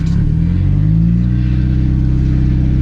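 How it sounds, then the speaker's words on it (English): A car engine revs loudly and close during drift practice, a deep rumbling drone that climbs in pitch and then holds steady, with no talking over it. "You gotta clutch in and rev it up."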